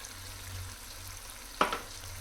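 Puréed tomatoes from two medium tomatoes go into hot masala in a pan for a fish curry, a steady low sizzle broken by one sudden louder hiss and splutter as the purée lands, close and alone.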